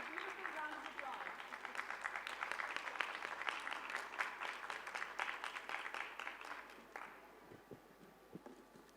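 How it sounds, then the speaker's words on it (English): Audience at a plenary forum session gives a sustained round of applause, dense clapping from a hall that gradually fades into scattered individual claps, with a voice speaking over it. "give our audience a beautiful round of applause"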